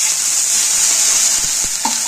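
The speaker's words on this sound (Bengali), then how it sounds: "জলটা ফুটে ফুটে এসছে।" Water bubbling and sizzling hard in a hot pan around a potato kulcha paratha, a dense continuous hiss with a few soft pops, close and loud.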